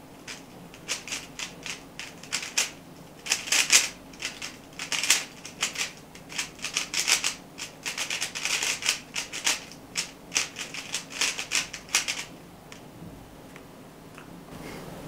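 A Rubik's cube is turned rapidly at a speed-solving tournament in Brest, a fast, continuous clatter of crisp plastic clicks for about eleven seconds before it stops, close and fairly loud.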